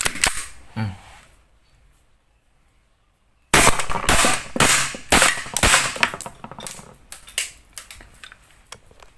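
A Glock 17 gas blowback airsoft pistol: a faint slide rack early on, a quiet pause, then a rapid string of sharp, loud cracking shots with metallic clacks, tapering toward the end.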